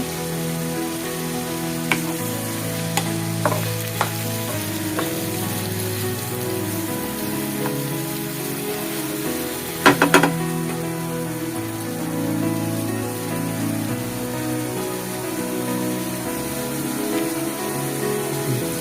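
Three dried red chillies sizzle and crackle steadily in hot oil in a pan, a dense continuous frying hiss with a few sharper pops partway through.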